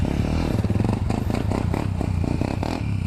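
An Apollo 125cc dirt bike engine revs hard for a wheelie, giving a loud, close, rasping snarl with choppy pulsing surges that climb and fall across the few seconds.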